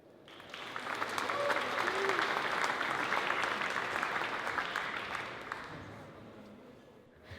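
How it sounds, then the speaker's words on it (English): Applause from a conference audience welcomes a speaker giving a talk on modular web development, a dense close clatter of clapping that swells, holds, then fades away. "Please have a round of applause for Silke."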